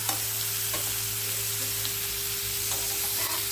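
Garlic and ginger sautéing in oil for a breadfruit stir-fry, a soft continuous sizzle with a few scraping stirs of the spoon, close and steady over a faint background hum.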